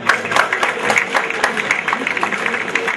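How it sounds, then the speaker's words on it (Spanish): Audience applause for a prize winner at an outdoor country festival, a short burst of clapping with crowd noise and a few raised voices mixed in. "¡Fuerte el aplauso!"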